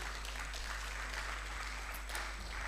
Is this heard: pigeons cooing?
no